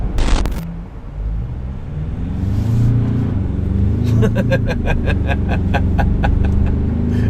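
Pickup truck engine, either a VW Amarok or Ford Ranger, pulling hard at full throttle, a steady loud low drone that builds and holds while rhythmic clicking joins partway through.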